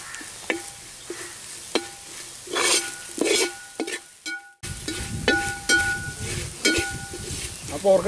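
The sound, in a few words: pork fry masala: onions and spice powders frying and stirred in pan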